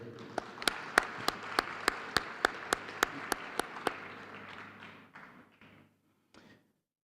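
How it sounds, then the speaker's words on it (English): Scattered clapping from a diploma ceremony audience, a dozen or so sharp, evenly spaced claps over a soft room murmur, thinning out and stopping after about five seconds. "give a round of applause to everyone who's graduating here today"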